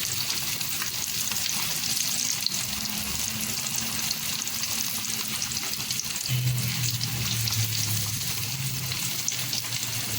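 Chicken broast deep-frying in hot oil, with a dense, continuous crackling sizzle that stays loud and steady throughout, and no voices.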